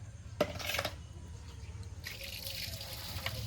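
Running water splashes in a sink as cut fish pieces are washed, with a brief clatter near the start and a steady flowing hiss that picks up later, fairly quiet.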